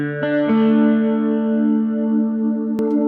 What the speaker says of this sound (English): And finally we have the Leslie sound, which does get a bit of use.